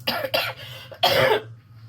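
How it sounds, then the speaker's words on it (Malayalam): Two or three harsh coughs in quick succession, close to the microphone, with a steady low hum underneath. "ചുമയാ കേട്ടോ കുറച്ച് അഡ്ജസ്റ്റ് ചെയ്യണേ"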